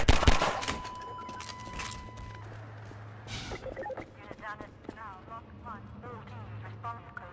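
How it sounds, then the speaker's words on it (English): A Half-Life 2 pistol fires in the game with a burst of sharp shots at the start, then quieter game sounds and footsteps follow while someone talks. "Half-Life 2 pistol, my beloved."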